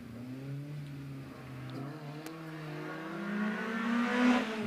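A much-modified race car with a roll cage accelerates up the Shelsley Walsh hillclimb, its engine note rising and climbing through the gears as it draws nearer and louder, with no voices.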